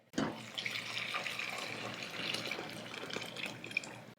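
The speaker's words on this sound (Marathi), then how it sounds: "आता यामध्ये आपण सूप घालूयात" Broth is poured into a pan of village-style black-masala mutton curry, making a continuous trickling, splashing pour with small drips that is fairly close and steady for a few seconds.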